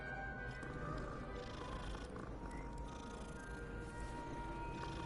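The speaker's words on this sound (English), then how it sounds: "you can pet the cats" A cat purring while being petted in the video game Hogwarts Legacy, a faint steady low rumble under continuous game background sound, with some talk nearby.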